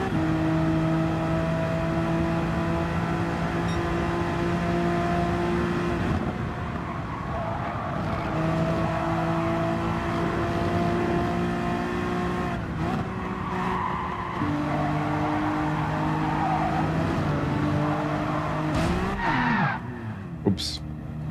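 Honda NSX race car in Gran Turismo 7 at Watkins Glen: a loud sustained engine drone with shifting pitch through gear changes, tire squeal and skids, and a brief knock near the end, while a voice talks over it.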